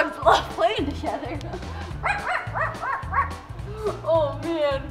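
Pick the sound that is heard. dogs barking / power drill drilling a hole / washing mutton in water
dogs barking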